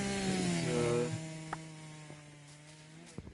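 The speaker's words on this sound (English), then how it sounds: "This is just going to be a lot of chainsaw noises that you're going to be hearing over and over and over again." Chainsaw noise in the Minecraft video game: a droning, buzzing engine tone with shifting pitch that tails off after about a second, followed by a lower hum and a few short clicks.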